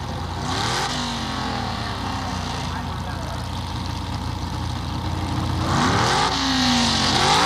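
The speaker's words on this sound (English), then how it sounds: "now the dragster starts to come on" Drag racing launch at a 1976 NHRA meet as a 1974 Vega and a dragster leave on a handicap start: loud, sustained engine roar with rising revving sweeps near the start and end, commentary talk running over it.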